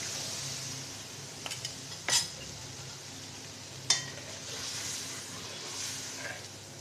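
Coconut milk poured into a pan of fried, simmering masala and stirred, with a soft hiss and sizzle underneath, a few sharp clinks of a spoon against the pan, and scraping stirs, all fairly faint.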